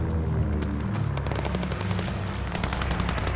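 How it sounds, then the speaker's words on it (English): Mortar shells exploding in the war game Vanguard, a dense, continuous barrage of rapid booming blasts and rattling fire, loud and sustained with no break and no speech. "They're sending mortar shells!"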